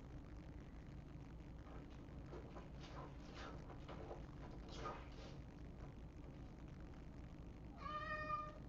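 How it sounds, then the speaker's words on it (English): A house cat meows several times in a row near the end, a short whiny burst rising over steady low room hum after a stretch of background noise. "Oh my God, there is my cat again."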